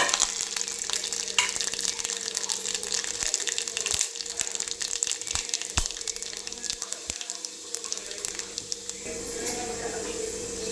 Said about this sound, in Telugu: ఇప్పుడు పొయ్యి మీద బాండి పెట్టుకొని దాంట్లోనే ఈ మన వెల్లుల్లి, జీలకర్ర, ఆవాలు, ఎండుమిర్చి ఇవన్నీ వేసి మంచిగా వేయించుకోవాలి.